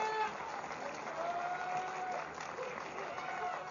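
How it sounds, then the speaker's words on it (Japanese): An audience at Kawaguchi Auto Race applauds auto race winner Aoyama after the Super Star championship final, a steady wash of clapping at moderate distance, fairly faint, with a voice talking over it. "改めまして青山選手に拍手をお願いします"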